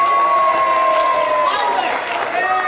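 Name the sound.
standing audience clapping hands and shouting yay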